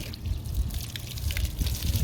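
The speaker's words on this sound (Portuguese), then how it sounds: "agora eu vou dar um pouquinho de água e a Mari vai molhar um pouco" Water splashing and trickling over a horse's coat during a bath, soft irregular pouring and dripping close by, fairly quiet.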